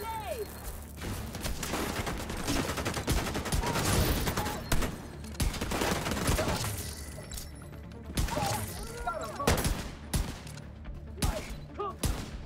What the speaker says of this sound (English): How'd I miss all those shots on him then?